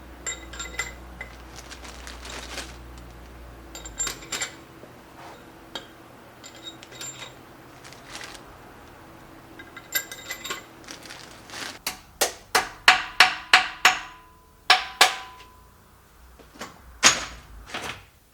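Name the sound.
bolts being put into the LS swap engine's cylinder head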